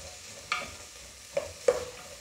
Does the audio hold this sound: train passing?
no